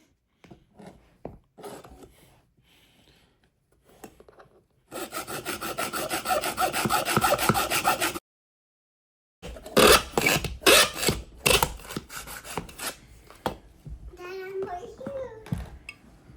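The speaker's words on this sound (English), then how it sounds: "now I can get to sawing away" Hand saw strokes rasping steadily through a metal closet hanging rod, a long continuous stretch of back-and-forth cutting, then a pause and more uneven strokes with scattered clicks.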